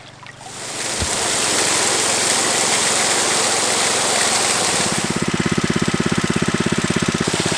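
A water pump engine at a gold prospecting site roars loud and steady, then settles into a rapid, even chugging rhythm near the end.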